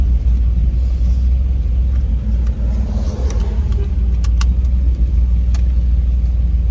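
A car passes on a snowy mountain road, a steady low rumble of tyres and engine close by, swelling slightly mid-pass with no talk over it.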